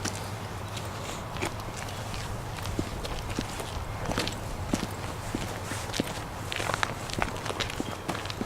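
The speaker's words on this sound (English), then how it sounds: "You can hear your footsteps quite loud and stuff." Footsteps crunch steadily across the ground at a former coke works site, a close, regular run of scuffing steps over a constant low background drone.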